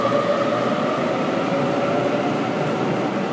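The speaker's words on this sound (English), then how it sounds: "there's a Waratah departing platform 6" A Waratah train departing platform 6 at Sydney Town Hall underground station, a loud, steady rolling rumble with a sustained whine from the moving cars, continuous and close for the whole stretch.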